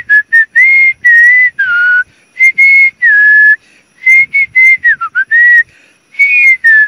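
A man whistles an imitation of the Malabar whistling thrush, a series of loud, clear whistled phrases with rising and falling slurs, separated by brief pauses.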